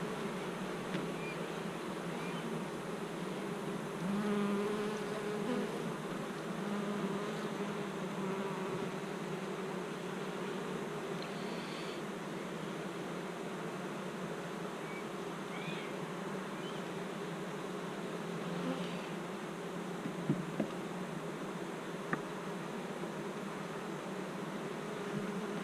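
Honey bees hum in a steady, dense drone at the front of a hive in summer heat, with occasional individual bees zipping close past over the continuous buzzing.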